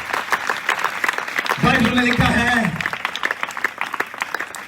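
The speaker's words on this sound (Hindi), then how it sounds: "रूहुल कुद्स के लिए तालियां बजाइए, जोरदार बजाइए।" A church congregation at a sermon in Faisalabad bursts into loud, sustained clapping for about a second and a half in the middle, with a preacher's amplified voice speaking before, during and after it.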